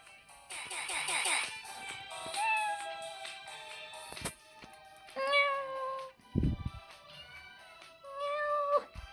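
A voice imitates a cat, giving several drawn-out meows with pauses between them, close and fairly loud.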